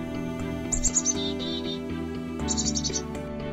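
Birds at an Audubon bird sanctuary beside the Pomperaug River chirp in brief high bursts, a couple of quick trilling phrases over a steady low background hum and music.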